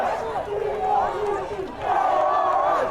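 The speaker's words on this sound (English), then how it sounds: "Now you got the crowd back into it." A high school football crowd in a stadium roars and yells in a steady, loud wave that swells again after a brief dip, with no distinct words.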